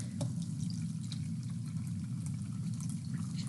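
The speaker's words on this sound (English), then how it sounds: "we're going to pour our sample through" Soil-water sample poured through filter paper into a beaker gives a steady, close liquid trickle and splash lasting the whole time, with no talk.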